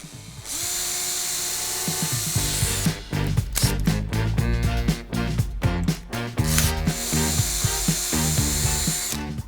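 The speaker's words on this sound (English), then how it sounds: "I just need my pre-drill because this wood is kind of hard." A power drill pre-drills holes in hard wood for mounting floating shelf brackets. The motor whines loudly and steadily, then breaks into a run of short stop-start bursts and rattles before settling into another sustained whine, with no talking.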